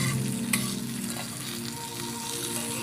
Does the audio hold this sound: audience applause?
no